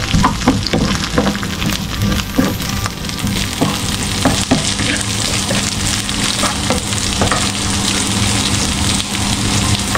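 Garlic sautéing in a pan for Filipino chicken adobo, a loud, dense sizzle and crackle close up with frequent sharp pops and scraping stir strokes, no talking.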